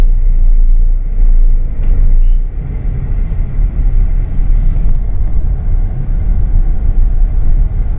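A Hyundai i20 rolls along in third gear over a speed breaker, its engine a steady low rumble with road noise close by and a slight dip in the drone partway through.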